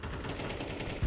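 Counter-Strike 2 gunshots crackle in a quick, steady burst of rapid fire at moderate distance, ending in a heavier low thump.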